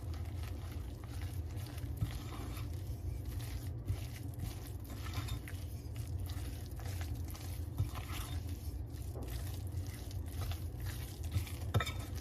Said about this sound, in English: Whisk it all together until it's combined into kind of a shaggy dough